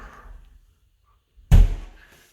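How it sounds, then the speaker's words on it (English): A glass shower door swings shut with one solid thunk, close and fairly loud, after a brief moment of quiet and faint movement. "I'm just going to close the door."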